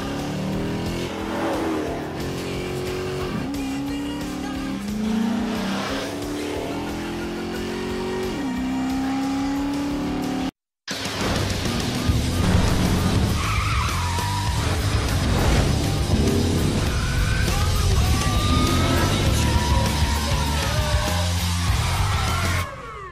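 A 470-horsepower Dodge Charger with a Hemi V8 revs hard in a loud, close engine roar with rising and falling pitch sweeps, a brief dropout, then more aggressive revving with shouts mixed in.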